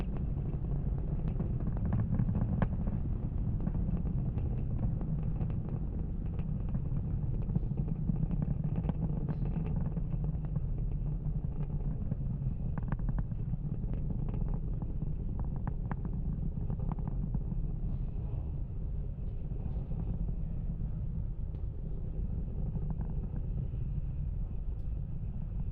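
A SpaceX Falcon 9 rocket climbing through supersonic flight toward max Q, heard as a steady, distant low roar and rumble, continuous for the whole span with no talk.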